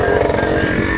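Motorcycle engine running on a rough, unpaved rural road in Masbate, a continuous close pulsing drone with uneven throttle as the bike bumps along.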